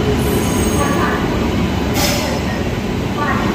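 A train pulls into a station on the Ajmer Amritsar Express route, a loud, continuous rumble of wheels and carriages with a brief high squeal partway through.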